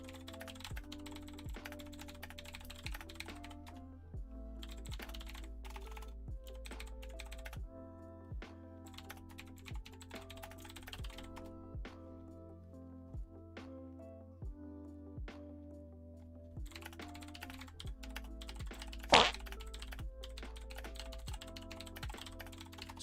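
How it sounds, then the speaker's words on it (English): Someone types a quick message on a computer keyboard while playing an old-school online game, with soft, rapid key clicks coming in bursts and pauses over a quiet background, close to the microphone, with no one speaking. "I'm just typing real quick to him here."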